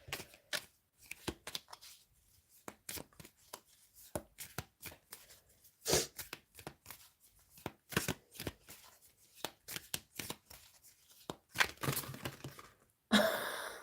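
Tarot cards are handled and shuffled close by in a long run of papery riffles, slaps and crackles, with irregular bursts and short pauses, ending in a louder sustained riffle.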